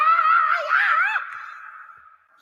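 A rock singer's drawn-out scream opens a record's intro before the first verse, loud and wavering in pitch, then trailing off into a fading sustained tone before a short click at the end.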